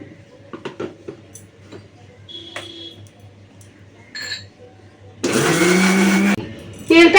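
A mixer grinder blitzes a spice paste with mustard oil for a parshe fish curry. After some quiet clinks there is one loud, harsh whirring burst of about a second, followed by a short rattle.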